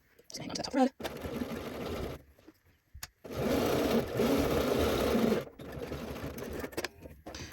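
A sewing machine stitches the short end of a shirt cuff, right sides together, in bursts of steady mechanical whirring separated by brief pauses, with a voice talking at the start.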